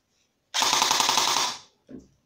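An EMG Noveske Gen4 AEG airsoft rifle fires one full-auto burst of about a second, a rapid, even mechanical rattle close up, followed by a brief second bit of firing.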